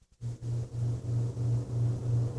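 A refrigerator's low, steady electrical hum drones on with a slight pulsing rhythm, faint and close, with no voices.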